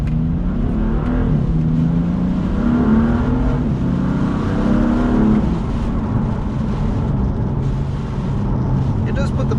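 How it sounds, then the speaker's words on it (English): BMW M4 with a Stage 1 Bootmod3 tune accelerating hard and revving, a loud steady engine roar with rising and falling pitch sweeps throughout, and a voice speaking over it. "I was like putting my foot down and revving the car out as well."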